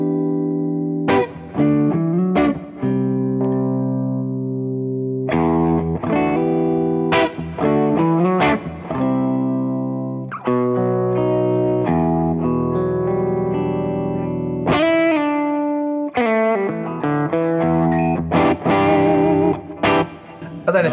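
An electric guitar played through a lesser-known British amp with a Marshall-like character rings out in a heavily distorted tone, with chords and riffs that sustain and then stop cleanly, loud and up close.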